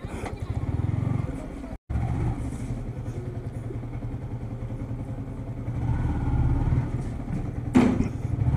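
A motorcycle is ridden into a house, its engine chugging steadily up close and loud, with a brief cutout and a rising rev near the end while someone talks over it.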